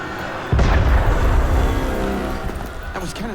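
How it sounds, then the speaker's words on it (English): A sudden deep boom of cannon fire in Assassin's Creed Unity erupts, followed by a long rumbling roar that slowly fades, with faint sharp reports later. "That was cannon fire."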